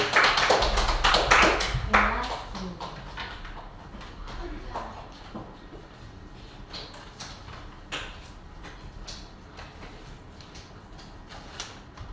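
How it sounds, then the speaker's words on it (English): A short burst of clapping from a small classroom group at the start, fading quickly into scattered taps and quiet room noise. "Give applause."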